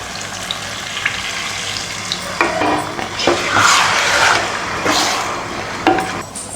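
Water hits a hot pan of sizzling chicken masala gravy, bringing bursts of hissing and frying along with scraping stirs and a few clinks of a utensil against the pot.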